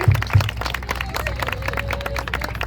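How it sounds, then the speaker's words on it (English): Applause breaks out at a Miss Mopar beauty contest on Long Island as the winner is named, a short burst of crowd clapping with a couple of sharp close claps and a faint background voice. "A round of applause for Rosie."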